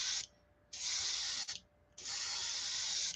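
Airbrush spraying Createx paint, thinned with a little reducer, onto a crappie glidebait lure: two sustained bursts of close, loud hissing spray separated by a short pause.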